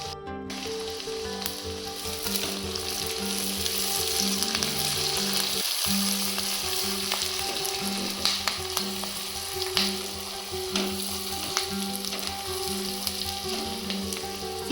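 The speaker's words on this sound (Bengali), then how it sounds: "কিছু কারি পাতা, 1 মিনিট নাড়াচাড়া করে" Curry leaves fry and are stirred in a pan for a green chicken curry. A loud, steady sizzle runs throughout, with a brief break near the middle and occasional scrapes of stirring, and no one speaks.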